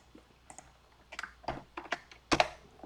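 Computer keyboard keys struck in a scattered series of sharp clicks, growing louder toward the end, close by with no speech, as shortcuts are pressed at a desk.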